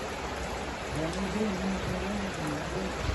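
Steady rain hiss fills the clip, a continuous wash of drops with a faint voice murmuring underneath.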